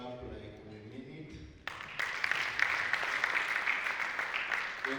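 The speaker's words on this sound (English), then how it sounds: "Let's clap like we mean it." A conference audience bursts into clapping after a short stretch of voice. The applause starts abruptly and continues as a steady, moderately distant wash of hands.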